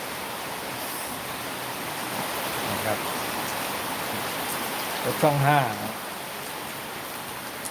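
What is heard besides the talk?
rain falling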